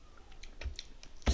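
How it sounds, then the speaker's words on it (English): Fingers tap a password on a computer keyboard, a quick run of light, crisp keystrokes with one firmer final press, close and quiet in a still room. "I've just entered the password twice in order to set it up"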